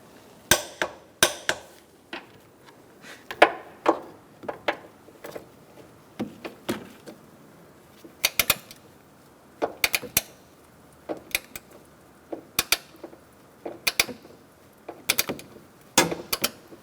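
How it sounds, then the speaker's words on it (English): Ratchet with a 15mm socket tightens engine mount bolts on a 2012-2018 Ford Focus, giving repeated clicking bursts and metallic knocks in irregular groups, close and clear with no talking. "Using a 15mm socket, we're going to tighten these bolts to 66 foot-pounds."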